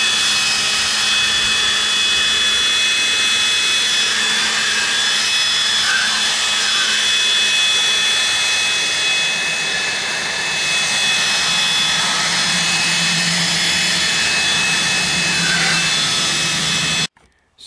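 A Milwaukee Gen II M18 cordless leaf blower runs as a loud, steady, close whine with a broad airy rush that holds nearly constant for about seventeen seconds before cutting off abruptly at the end.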